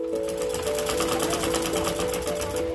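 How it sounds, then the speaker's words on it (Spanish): Sewing machine running steadily in a tailor shop in Aguilares, a continuous fast mechanical whir with rapid needle rhythm, close and loud throughout with no talking. "Con el sonido de la máquina de coser, inicia el día Doña Elizabeth y su hermano René."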